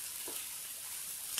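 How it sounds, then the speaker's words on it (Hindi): Chopped onion frying in a pan with coarsely crushed ginger and garlic paste gives a steady, close sizzle and hiss throughout, with a faint stirring scrape and no talking. "1 चम्मच दरदरा कूटा हुआ अदरक और 1 चम्मच लहसुन का पेस्ट डालेंगे और दोनों को हम 2 मिनट तक प्याज के साथ भूनेंगे"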